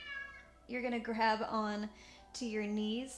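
A pet cat named Bob gives a few drawn-out meows close by, in short separate calls, while someone speaks calmly over and between them.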